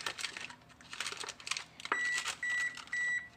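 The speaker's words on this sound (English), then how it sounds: "That is my oven telling me it's preheated." A kitchen oven beeps to signal that preheating is done, sounding as two or three sustained electronic tones after clattering and tapping of utensils and containers, fairly close by and with no voices.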